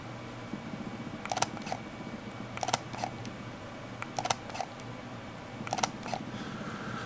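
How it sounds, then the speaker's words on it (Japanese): Leica M10-P rangefinder camera shutter firing four times in separate double clicks, each a crisp mechanical snap and quick recock, close and quiet over a low steady background hum, no talking. "M10P のね、シャッター音も僕好きなんですよ。"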